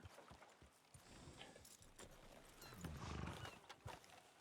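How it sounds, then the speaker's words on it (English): Horses in Red Dead Redemption 2 clip-clop along with a whinny rising midway, hooves and snorts mixed over steady ambient game sound. "you love how lively the horses are"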